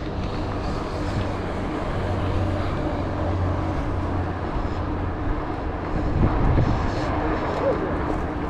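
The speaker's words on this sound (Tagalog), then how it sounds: "medyo ingat-ingat, mahangin ng konti." Steady rushing wind buffeting the microphone while cycling a long road ride, a constant broadband roar with low rumbling gusts and no talking.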